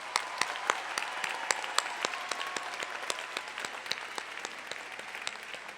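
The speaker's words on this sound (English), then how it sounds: "Let's give them one more round of applause." Graduates and guests at a university commencement ceremony give a round of applause, a fairly faint, distant patter of many hands clapping steadily throughout, with individual claps standing out.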